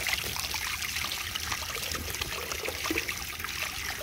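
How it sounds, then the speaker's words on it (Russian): Water trickles and bubbles steadily into a garden pond, a close, continuous splashing gurgle with no voices. "видишь, бульки"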